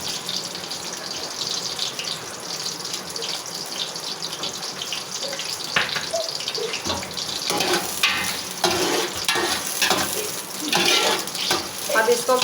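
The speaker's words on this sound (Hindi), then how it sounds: "हम इनको ब्राउन करते हैं प्याज को।" Onions browning in oil with bay leaf and small green cardamom give a steady close sizzle that thickens and grows louder midway, with occasional stirring scrapes over it.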